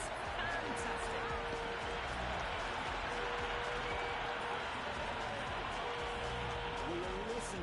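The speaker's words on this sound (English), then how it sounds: "Will you listen to that crowd? They are loving this." Cricket crowd at Eden Gardens in Kolkata during an India vs West Indies T20 World Cup match, a dense, steady roar of cheering that fills the whole stretch.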